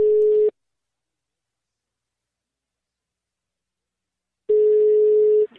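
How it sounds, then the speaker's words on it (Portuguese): Telephone ringback tone on an outgoing prank call: two loud steady beeps, one at the start and one near the end, separated by about four seconds of silence. "Tá chamando."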